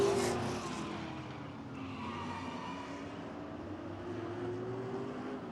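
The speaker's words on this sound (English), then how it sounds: "A 3-car collage down into turn 4." Stock cars at Barrie Speedway in a three-car collision going into turn 4 during a short-track race, heard as a sustained roar of engines with a grinding, skidding wash that holds steady and loud throughout.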